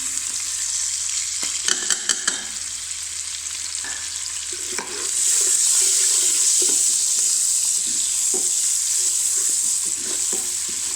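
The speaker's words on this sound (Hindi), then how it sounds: "उसके बाद हम साथ इसमें गाजर डालेंगे क्योंकि गाजर जो है वो ज़रा देर से गलती है, तो देर से फ्राई होती है" Carrots sizzle in hot oil in a pan for Chinese-style rice, with a few clinks and stirring knocks early on. The frying then swells into a loud, steady hiss that carries on to the end.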